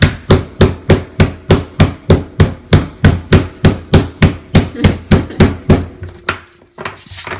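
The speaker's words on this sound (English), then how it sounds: "So we're gonna hammer it a little bit." Rapid, regular hammer blows on a food packet, around twenty sharp close thuds in a steady rhythm, then a pause and faint rustling at the end.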